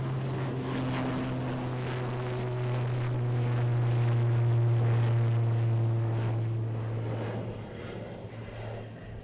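A Ryanair airliner at Edinburgh Airport drones with a steady engine roar, heard from a distance, swelling gently and then fading over about nine seconds.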